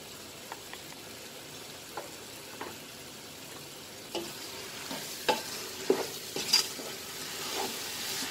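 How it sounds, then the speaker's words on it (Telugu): Ground spices and chilli powder frying in a pan for Hyderabadi chicken dum biryani, a soft steady sizzle with scattered scraping stirs that grow busier and louder toward the end, close and with no talking. "బాగా వేయించుకుందాం"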